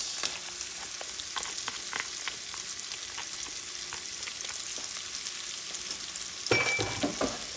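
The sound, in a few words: onions, cilantro and culantro sizzling in pot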